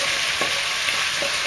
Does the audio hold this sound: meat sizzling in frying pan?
yes